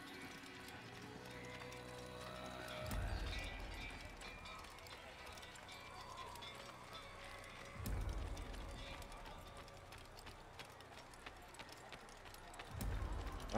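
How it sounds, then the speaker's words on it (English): A horse gallops in the video game Assassin's Creed (2007), steady rapid hoofbeats with heavier thumps every few seconds, moderately loud under a player talking intermittently. "In case you don't know, Monique is my horse"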